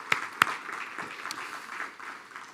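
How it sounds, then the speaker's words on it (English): A few sharp claps open a brief, light spatter of audience applause at a conscious leadership and ethics summit, fading and uneven, moderately distant and quieter than a full ovation. "please give Professor Mervyn King another round of applause"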